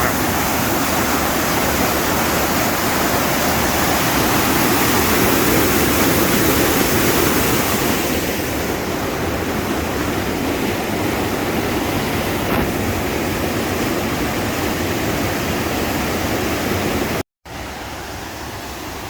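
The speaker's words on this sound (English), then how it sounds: "Waterfall steps" Water pours continuously down stepped weir falls on a stream at Lumbutts Clough, a dense, loud, close rushing roar that holds steady for the whole stretch with a brief cut near the end.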